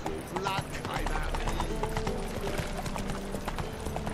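Horse hooves clip-clop steadily in The Witcher 3 video game, a continuous mid-loud gait under game music and ambience, with someone talking over it.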